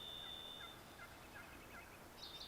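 Wild turkeys gobbling in Idaho woods during spring turkey hunting, faint and distant, with a few short calls and a brief louder burst near the end over quiet background hiss.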